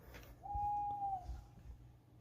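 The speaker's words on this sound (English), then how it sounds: "They just got an owl out here." An owl outside a window gives a single drawn-out, steady hoot lasting under a second, clear against a quiet low rumble with no talking.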